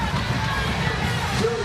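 A volleyball crowd at a Rainbow Wahine home match against UC Davis cheers the home team on, a steady roar of voices and hubbub filling the hall.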